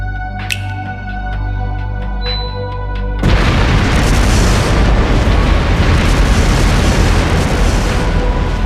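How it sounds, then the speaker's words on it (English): Explosive artifacts scattered through a palace detonate in the video game Trails through Daybreak: after quieter tonal sounds, a sudden loud boom gives way to a dense, sustained roar of rumbling blasts, with no talk. "Explosive artifacts!"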